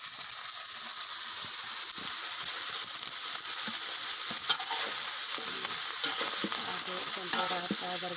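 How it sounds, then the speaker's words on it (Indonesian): Vegetables sizzle steadily in a hot pan while being stirred, with a constant bright frying hiss and scattered soft scraping and clinking of the utensil against the pan, fairly close and with no one speaking. "Aduk sampai rata, baru bumbunya merata."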